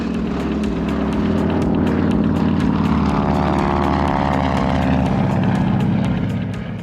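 A World War II fighter-pilot trainer propeller airplane engine runs loud and close, a steady throbbing drone with rapid rhythmic blade pulses that holds throughout and eases slightly at the end.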